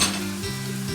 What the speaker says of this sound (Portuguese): fritando a carne já.